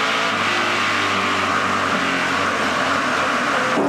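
Stock race cars in a NASCAR Pinty's Series race roar down the front straightaway, a loud continuous engine drone with a slight falling pitch as the cars pass, no talking.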